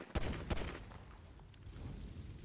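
Gunshots in Grand Theft Auto V with a winter mod, two quick sharp shots close together at the start, followed by a lingering rumble that fades.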